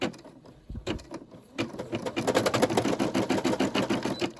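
A Brother SE600 embroidery machine starts up and stitches in a steady, rapid mechanical rhythm after a few soft clicks and handling sounds, running close and clear with no talk.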